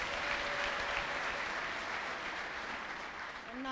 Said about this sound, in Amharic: እስቲ አጨብጭቡ ባካችሁ